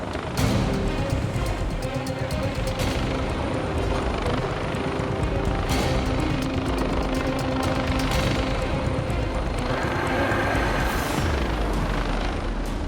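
A rescue helicopter hovers near a coastal cliff during a police and ambulance operation, its loud rotor thump and turbine whine steady and close throughout, with radio chatter and voices faintly under the noise.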